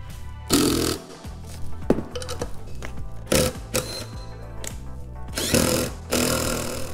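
Power tool tightening a horn mounting on a 2018+ Subaru WRX, with several short, loud whirring bursts of varying length and brief pauses between them, close by and alone without talk.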